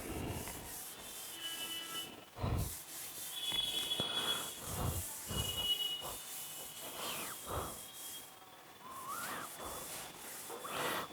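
An eraser rubs out a figure drawn on paper during a maths lesson, making soft, close, intermittent scrubbing strokes in uneven bursts with brief pauses between them.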